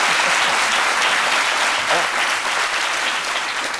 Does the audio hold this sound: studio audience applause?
yes